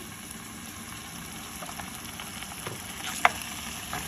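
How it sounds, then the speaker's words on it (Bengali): Onion and ginger paste frying in a pan for hilsa in mustard sauce, a soft steady sizzle close by with one brief sharp tap of a utensil. "আমি পেঁয়াজের পেস্ট দিয়ে সেটা রান্না করছি"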